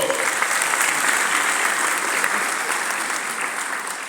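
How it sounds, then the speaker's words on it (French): Sustained audience applause at a French-speaking business forum on first employment, a dense steady wash of many hands clapping that fades slightly toward the end. "Je vous demande, mesdames et messieurs, de l'applaudir très fort"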